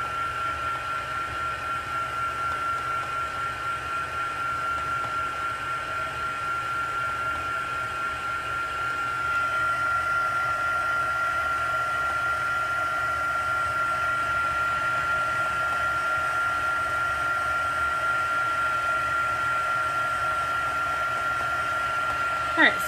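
A heat tool drying ink on a shaker card gives a steady, loud whirring blast with a fixed high whine that runs on without a break and rises slightly partway through.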